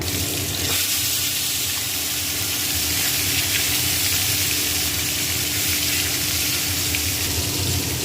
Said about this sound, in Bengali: তেলটা আমার গরম হয়ে গেছে, এবার আমি এক এক করে মাছগুলো ভেজে নেব।